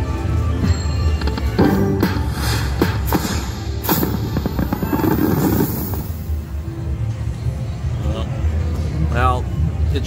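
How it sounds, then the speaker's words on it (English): Electronic fireworks bursts from a Bao Bao Riches Fireworks arcade game, a loud busy run of booms and crackling sound effects layered over casino floor din and nearby voices, with a rising whistle near the end. "Shot those fireworks all the way up to the top."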